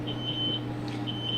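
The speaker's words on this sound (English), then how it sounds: "that's the fire alarm that's going off." A smokehouse fire alarm emits faint, high-pitched intermittent beeps over a steady low hum of fans.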